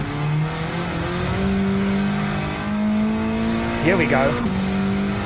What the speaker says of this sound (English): I can short shift to third and just put my foot down and the car will pull